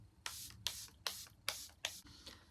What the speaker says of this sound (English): I'm using the Charlotte Tilbury Airbrush Flawless Setting Spray